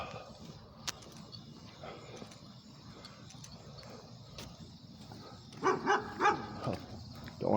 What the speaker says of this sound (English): Don't want to get the dog going.